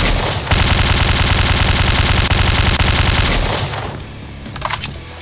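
Rapid machine gun fire from a video game, a dense continuous burst at close range for about three seconds, then cutting off to quieter scattered game sounds.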